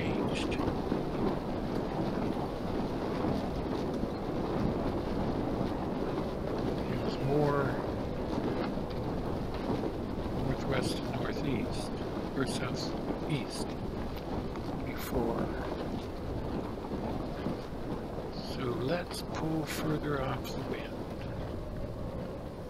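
In the Sailaway sailing simulator video game, wind rushes and water washes steadily around a sailboat, with a constant low roar punctuated by scattered creaks and clicks.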